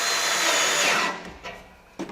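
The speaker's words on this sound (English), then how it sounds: "put some pressure on and drill slowly" A power drill whirs loudly for about a second as it drives a screw slowly under pressure into steel for a raised garden bed, then stops, followed by a few brief clicks and knocks.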